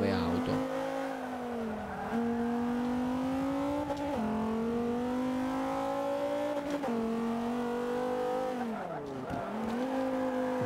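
Race cars in the video game Forza Motorsport 5 drone continuously with a loud engine tone that climbs and drops through repeated gear changes, steady and dominant throughout.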